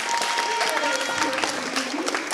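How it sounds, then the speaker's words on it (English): A school band concert audience applauds parents and families with a dense, steady patter of clapping that fills the hall, with a brief voice mixed in near the start. "So students, give your parents a big round of applause."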